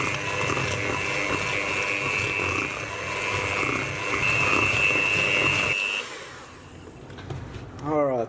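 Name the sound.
electric mixer on low speed mixing green buttercream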